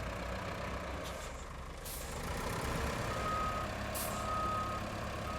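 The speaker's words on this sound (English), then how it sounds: "just testing what the truck can do" A truck in the RoadCraft video game backs up with steady reversing beeps over a constant engine rumble, and air brakes hiss briefly twice.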